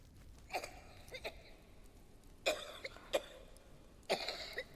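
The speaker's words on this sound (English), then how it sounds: "Oh, it is us coughing." A character in a horror video game coughs in three short clusters of harsh, fairly close coughs spaced a couple of seconds apart over a quiet background.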